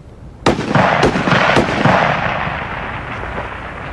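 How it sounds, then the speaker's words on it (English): Rifle shots ring out at a 600-yard target range match, several loud sharp cracks in quick succession with long rolling reverberation trailing off across the open range. "You may commence firing."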